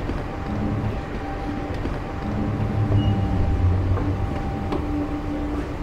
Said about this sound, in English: it's effectively a shuttle train which runs from the airport immediately down to the main train station